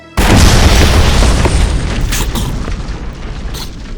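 A single loud gunshot from a handgun fired in a short horror-comedy film, an abrupt close blast followed by a long rumbling decay that fades slowly over several seconds.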